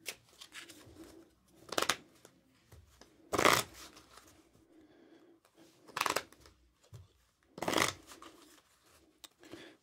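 Playing cards are riffled in several quick bursts, each a brief crisp flutter, separated by pauses with faint handling noises in between.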